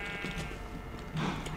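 Sheep in the Minecraft video game bleat in two quick, clear calls, loud and near, with no talk over them.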